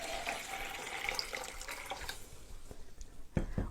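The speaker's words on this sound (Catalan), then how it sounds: "per alimentar-lo hem de posar aigua" Water poured from a tap into a water kefir jar, a close, continuous splashing stream that thins out near the end into a few separate drips and clinks, with no voices.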